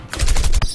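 A quick burst of rapid gunfire in the cartoon game Henry Stickmin, about five loud, punchy shots fired in fast succession within under a second.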